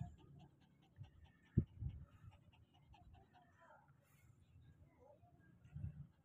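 Summer the dog panting after a walk outdoors, soft quick breaths close by with a sharp knock and a few faint sounds, fairly quiet overall.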